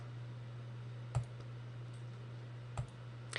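Two crisp, isolated computer mouse clicks on a column header in a software list panel, about one and a half seconds apart, alone over a quiet steady hum.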